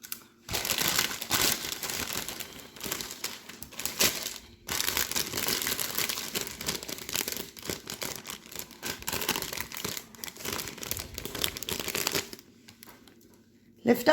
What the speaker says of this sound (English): I'm just taping it right underneath to secure